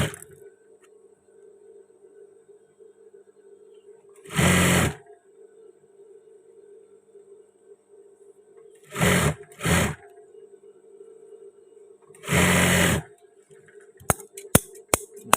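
Sewing machine stitching the thigh seam of trouser pieces, heard as three short, close bursts of whirring separated by quiet pauses, with a few sharp clicks near the end.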